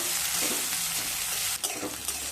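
Onions fry in hot oil for a Bengali potato and cabbage dish, giving a steady, close hiss and crackle with a brief scrape of stirring partway through.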